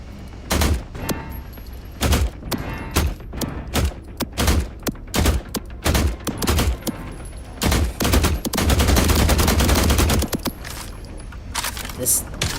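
Gunfire aimed at a shark in The Last Caretaker: loud, sharp shots fired one at a time and in short bursts in an irregular rhythm, close and dominant, ending in a dense run of rapid fire.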